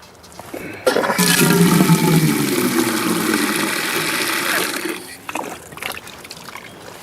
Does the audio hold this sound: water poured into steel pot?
yes